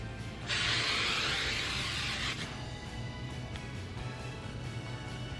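Hairspray hisses from a can in one sustained burst of about two seconds, spraying close by while short hair is lifted, then the sound stops.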